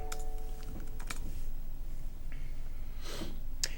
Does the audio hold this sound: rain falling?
no